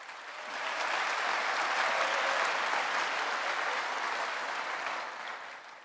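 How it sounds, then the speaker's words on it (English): A crowd at a high school commencement ceremony breaks into steady applause that swells quickly, holds for several seconds, then begins to taper off. "Let's give them a round of applause"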